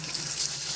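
Warm tap water runs steadily from a kitchen faucet over two cups of rice in a colander, a continuous close splashing hiss with no voices.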